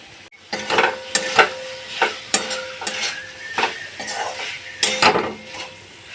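Watermelon rind curry in a pot being stirred after sugar is added, a spoon scraping and knocking against the metal in a steady series of close strokes with a soft sizzle beneath.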